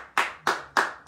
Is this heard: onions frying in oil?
no